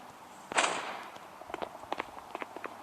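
A grenade goes off in the mobile shooter Guns of Boom with a single sharp burst, followed by a series of light, scattered taps like footsteps.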